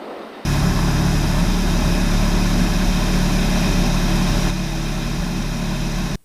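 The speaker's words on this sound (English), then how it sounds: "Kodiak taking off Mount Pleasant" A Kodiak floatplane on takeoff from water, its turboprop engine and propeller holding a loud, steady, full-power drone throughout, easing slightly near the end before cutting off abruptly.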